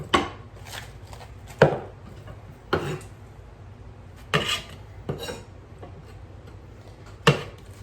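Almonds chopped with a knife on a board for a salad, about seven sharp, irregularly spaced knocks heard up close over a quiet background.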